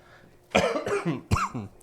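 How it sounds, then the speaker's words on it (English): A couple of sharp, close coughs in quick succession, each a sudden burst followed by a brief rasp, with a short pause between them. "First cough."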